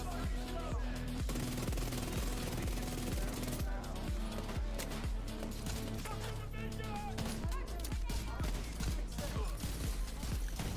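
M1A rifle fire in The Division 2, sharp repeated shots spaced in a steady rhythm over a dense game soundscape with music, loud and close throughout.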